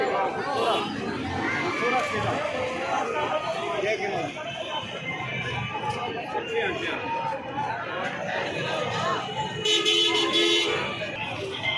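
Street traffic at a busy plaza in Hyderabad, with engines rumbling, brief car horn toots and crowd chatter throughout, and a louder burst of horns near the end; people talk nearby.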